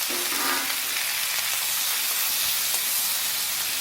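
Boiled potato, carrot and beans sautéed with tomato in a pan make a loud, continuous sizzle and hiss, close by, with no voices.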